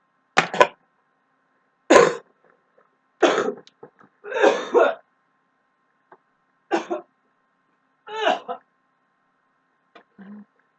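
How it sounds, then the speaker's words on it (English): A person coughs in separate harsh bursts, about seven of them spread across roughly ten seconds with quiet gaps between, close and fairly loud, some sounding like throat clearing. "You wouldn't believe the shit that I'm coughing up right now."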